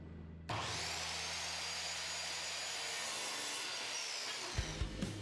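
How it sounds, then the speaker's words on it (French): A saw cutting a wooden log starts abruptly and runs as a steady loud buzzing drone, close by and alone, ending with a few knocks and thumps as it stops. "ne sciez que les parties utilisables"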